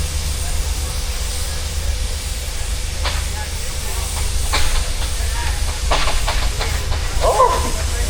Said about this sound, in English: the safety valves are just blowing off as we speak